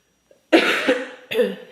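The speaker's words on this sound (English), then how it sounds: "I am getting over a little cough, so I apologize if I'm coughing in this video" Two sharp coughs, close and loud, the first rough and drawn out, the second shorter, after a moment of silence.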